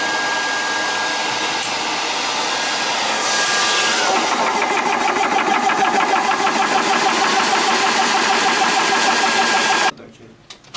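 A car engine drones steadily and loudly from inside the vehicle on the drive to a shooting range, growing slightly rougher partway through before cutting off abruptly near the end.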